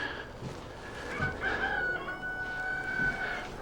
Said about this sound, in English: Oh, the rooster says it's time to wake up.